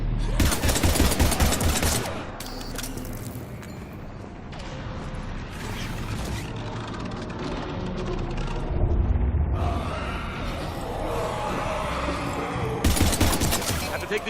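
Mass Effect combat against husks fills the air with sustained, loud gunfire and rapid automatic bursts that keep going almost without a break. Mechanical clatter and shouting voices come through in the mix.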